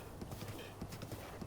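Horse hooves gallop in Zelda Breath of the Wild, a quick rhythmic clip-clop of a giant horse running, faint and steady, with low game sound behind.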